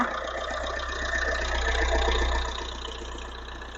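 A car engine idles steadily nearby with a low, even rumble and a slight rattling texture. It swells a little midway, then settles back.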